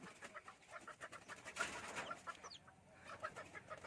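Faint bantam chicken clucks come in quick bursts and scattered squawks, distant and low against a quiet background.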